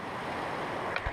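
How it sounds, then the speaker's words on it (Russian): Rushing water of the Chemal river in Altai, heard from a SOLAR 420 jet boat, a steady broad wash with wind buffeting near the end, brief and fairly loud. "Вот она, река Чимал,"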